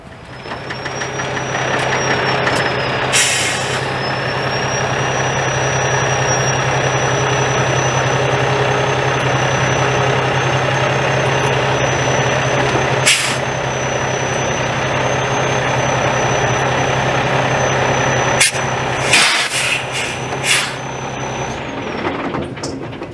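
A semi truck tractor unit with tire chains fitted idles and pulls ahead, its steady low diesel drone holding close for the whole stretch, broken by a few sharp clanks and hisses.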